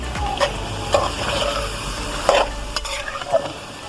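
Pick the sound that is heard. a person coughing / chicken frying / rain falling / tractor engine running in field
chicken frying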